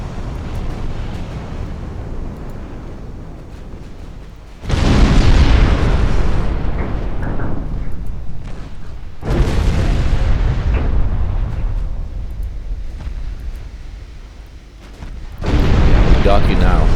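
Heavy explosions roll across a naval battle in Ultimate Admiral Dreadnoughts as torpedoes strike a warship, three loud booming blasts spaced several seconds apart, each decaying into a rumbling, sea-like wash.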